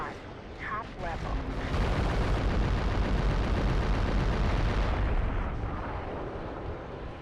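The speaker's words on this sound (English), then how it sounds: "Fire some mortars." Mortar fire and explosions in Future Cop LAPD build into a loud, sustained roaring blast that swells after a second and rumbles for several seconds before tapering off, with brief voice at the start.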